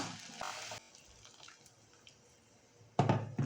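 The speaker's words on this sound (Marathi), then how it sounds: "हे मी गरम पाणी ॲड केलं आहे" Hot water poured into rice for a vegetable pulao, heard as short splashing bursts at the start and again near the end, with a quiet kitchen in between and no talking.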